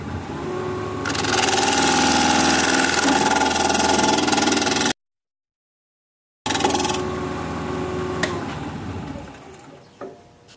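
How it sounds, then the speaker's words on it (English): Half-inch gouge cutting into a rhododendron root bowl spinning on a wood lathe, a loud steady broadband grinding and hissing that breaks off abruptly into silence, then resumes and gradually tapers away. "So I'm going to try a 1/2 inch gouge and see if I can get in here a little tighter."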